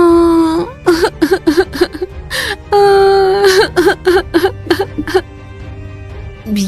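A woman crying loudly in an animated Hindi fairy tale: long wailing moans broken by rapid sobbing gasps, close and emotional, with a low sustained tone beneath.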